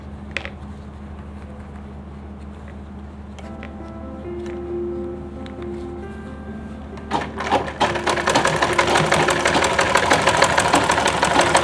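A sewing machine stitching fabric for a lunch bag hums and ticks in short, hesitant bursts, then runs into a steady, fast, close mechanical chatter that continues to the end.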